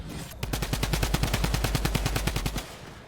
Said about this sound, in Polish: O, ktoś do mnie strzela.